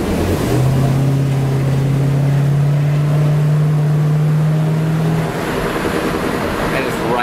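A 1994 Chevrolet G20 cargo van with a 5.7-litre 350 V8 accelerates downhill. The engine drones as a loud, steady low note that holds for several seconds, then gives way to rushing wind and road noise, recorded from inside with no talk.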